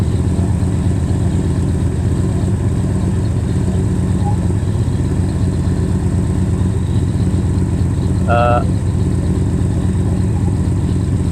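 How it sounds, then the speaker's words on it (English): A steady, low exhaust rumble from an idling Dodge Dart with a glass-pack-like tone, close and continuous, with a faint brief chirp partway through. "I think the exhaust sounds a little bit like glass packs"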